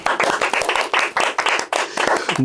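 A small group claps to open the second episode of the ApriscoOn podcast, with quick bursts of handclaps in short uneven waves, fairly close and loud, and no talk over them.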